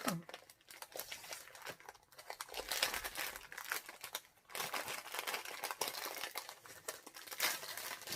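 Plastic pouch holding a painting-on-canvas kit being opened and handled, giving continuous close crinkling and rustling with small crackles throughout, fairly quiet.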